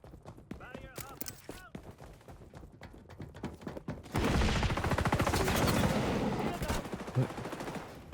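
In the video game XDefiant an AK-47 fires rapid shots, first in sharp separate bursts, then as a sustained loud stream of automatic fire.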